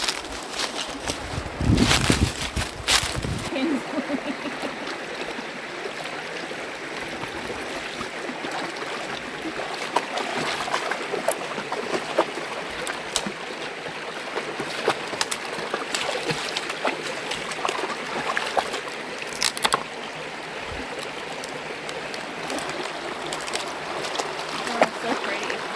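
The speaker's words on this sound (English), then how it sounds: "So the creek goes through our property." A creek running through a homestead property flows and trickles steadily, a soft continuous wash of water with small splashes, heard outdoors at a moderate distance.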